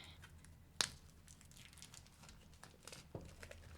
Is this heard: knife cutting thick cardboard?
yes